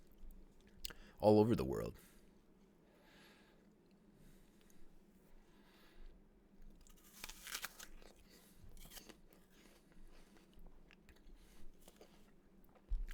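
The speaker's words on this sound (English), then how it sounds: "I don't just hear this apple crunching the whole time" An apple crunched close to the microphone in a quiet indoor room: one short, loud, crisp bite early on, followed by softer chewing noises and a few brief spoken words.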